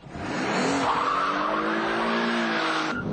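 A red Alfa Romeo Spider 3.2 V6 convertible with 240 horsepower accelerates hard, its engine roaring loud and close as the pitch climbs steadily for about three seconds before cutting off abruptly.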